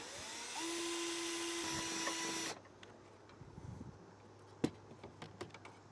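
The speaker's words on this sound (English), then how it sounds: "just take a drill bit, drill a small opening in it" A high-pitched electric drill whines steadily for about two seconds while drilling a small hole in a grommet on a 2023 Mercedes-Benz, then stops, followed by a few faint clicks and taps.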